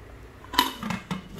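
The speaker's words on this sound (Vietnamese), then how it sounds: "cho mở nắp như vậy đây, trong đây nó có lồng hấp nữa nè đó." A Japanese pressure cooker pot lid is lifted open, giving a metallic clank followed by two lighter clinks of metal on metal, close and fairly quiet.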